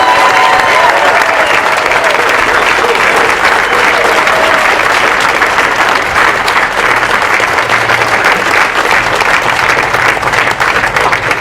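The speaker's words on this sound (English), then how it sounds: "let's give Corporal Frank Wright a thunderous applause that he deserves" A crowd applauds loudly and without a break at a Marine sergeant promotion ceremony, with dense, even clapping filling the room from start to finish.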